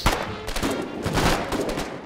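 Dense exchange of rifle and machine-gun fire on a Foxhole frontline: rapid, loud overlapping shots crackle continuously without pause.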